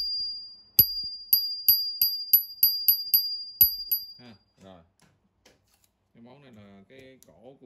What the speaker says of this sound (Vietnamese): cái này cái chuông nè